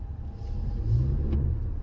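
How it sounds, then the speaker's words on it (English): A 2021 Toyota Venza hybrid's engine kicks back on after EV mode: a low rumble swells in under faint road noise, rising briefly and then holding steady. "You can hear when the engine kicks back on"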